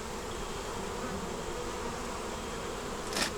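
Honey bees on a hive frame holding brood and nectar make a dense, continuous buzz close up, steady throughout with no talking.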